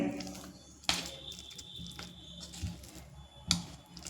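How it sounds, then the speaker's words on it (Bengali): A spoon mashes soft bael fruit pulp in a bowl, giving quiet, intermittent squishing with a few sharper clinks of the spoon, close and soft. "একটা চামচের সাহায্যে একটু ম্যাশ করে নেব"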